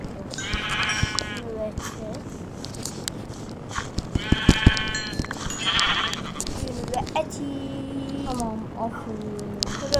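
Sheep bleat in a video game: a few short, nasal bleats come in bursts, fairly close, mixed in among game noises and people talking over them.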